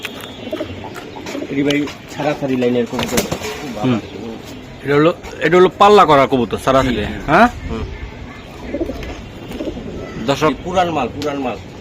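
Pakistani Teddy and high-flying Giribaz pigeons coo repeatedly at close range, their soft throaty calls mixed with lively talking voices throughout.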